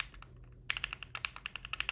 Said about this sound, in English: The new keyboard sounds nice.